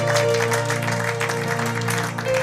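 Church congregation applauding during worship, a dense steady wash of clapping throughout, with sustained tones and a faint voice underneath.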